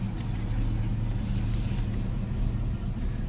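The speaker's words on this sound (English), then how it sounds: "That's what they sound like without the resonators." A 1959 Cadillac engine running with its exhaust resonators removed gives a steady deep rumbling drone with wind noise over it, continuous and fairly close.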